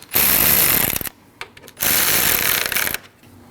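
A ratchet snugs the 10 mm radiator fan bolts on a 2012-2016 Honda CR-V 2.4L, two loud, rapid clicking bursts close by with a few scattered clicks in the short gap between them.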